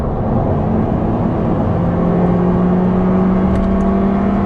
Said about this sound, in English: when I full throttle, you can hear it definitely.